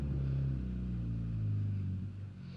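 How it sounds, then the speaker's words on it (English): A 2015 Honda Civic Si on a test drive, its engine holding a steady low hum heard from inside the cabin, the pitch easing slightly as the car moves, with no talking. "So let's take this car for a test drive."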